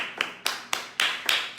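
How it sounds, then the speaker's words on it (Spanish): Rhythmic clapping from a Sunday church congregation, five or six loud, evenly spaced hand claps in a steady beat, close and distinct. "¿Alguien puede dar un aplauso a nuestro Dios?"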